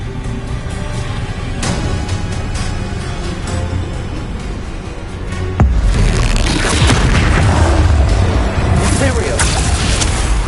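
Flipendo spell blast in the video game Hogwarts Legacy, a sharp sudden boom midway that jumps from a steady low game rumble into a louder, crackling burst of noise lasting several seconds.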